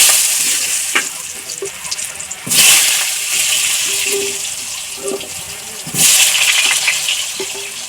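Potatoes go into hot oil already spitting with cumin seeds and bay leaf, in a village kitchen. A loud, close, steady sizzle is broken by two bursts of stronger hissing and a few small clinks, with no talk.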